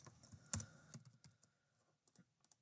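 Typing on a computer keyboard while setting up a B&R Automation program: quiet, close keystrokes in an irregular run, one firmer tap early, then sparse clicks trailing off.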